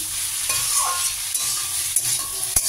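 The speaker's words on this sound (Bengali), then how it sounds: "ঢাকনাটা খুলে কষিয়ে নেব। কষানো করতে একটু মেঝে থেকে নেব, মিশিয়ে নেব সব কিছু" Mixed vegetables being stir-fried in a pan for a vegetarian curry, a close, steady sizzle with repeated spatula scrapes and a sharp clank near the end, no voices.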